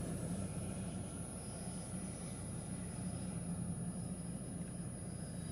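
A NetJets jet taking off at Tucson International Airport gives off a steady, broad engine roar, heard from a distance and holding even across the whole stretch, with no talking.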